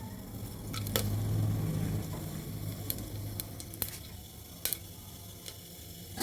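Whole spices, including cinnamon, mace, black pepper and cloves, crackle in hot oil over lowered heat, with a faint steady sizzle and scattered sharp pops and clicks.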